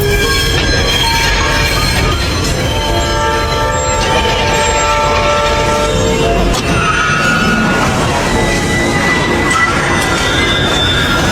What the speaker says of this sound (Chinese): 但随着火车的鸣笛声越来越近